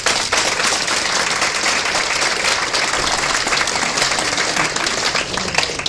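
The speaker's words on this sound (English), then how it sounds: "I think that deserves a round of applause." Sustained applause from a dinner crowd at a farewell for a long-serving primary school teacher, dense steady clapping filling the room loudly and evenly for the whole stretch without a break.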